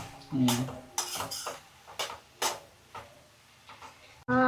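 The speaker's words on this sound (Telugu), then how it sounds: "మధ్య మధ్యలో కలుపుతూ ఉండాలి టమాటాలు బాగా మగ్గాలి" Tomatoes being stirred in a cooking pan for a capsicum paneer curry, a spoon scraping and clinking against the metal in a few separate strokes, close and moderately loud, with a short quiet stretch near the end.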